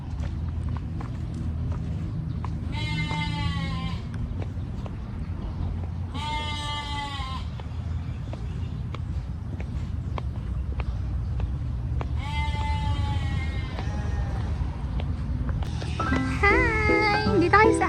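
Goats on a farm in Batangas bleat in several drawn-out wavering cries spaced a few seconds apart, moderately close, over a steady background rumble, with people talking.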